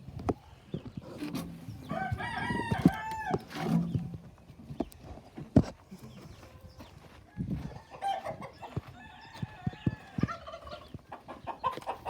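Chickens cluck and squawk close by, with a rooster crowing and scattered bird calls over a busy yard background.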